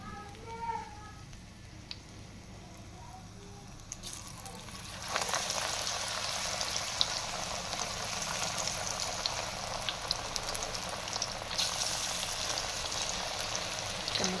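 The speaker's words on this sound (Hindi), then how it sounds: "अब डालते जाएंगे पकौड़े अपने" Spinach and potato pakoras drop into hot oil, a faint sizzle that jumps to a loud, steady crackling fry after a few seconds and continues with small pops, light talk in the background.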